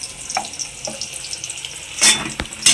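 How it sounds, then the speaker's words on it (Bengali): Fish marinated in salt and turmeric fry in a wok with a soft continuous sizzle, broken by a few sharp bursts of spattering and clattering pan sounds near the end. "আমি এখন মাছগুলো ভাজছি, নুন হলুদ মাখিয়ে রেখেছিলাম"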